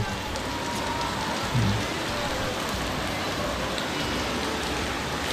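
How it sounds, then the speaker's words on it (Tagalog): Heavy rain pours steadily throughout at night outdoors on Burias Island, a dense continuous hiss with no pauses, close and loud. "Ayun, malakas yung ulan."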